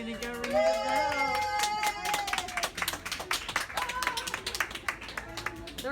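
An audience breaks into quick, scattered clapping that builds into a lively, uneven round of applause, heard fairly close after a few spoken words.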